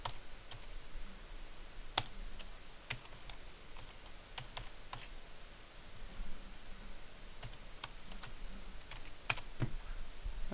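Typing on a computer keyboard while working in a bash shell on Windows: scattered, irregular key clicks and taps, fairly close and quiet, with short pauses between bursts against a faint hiss.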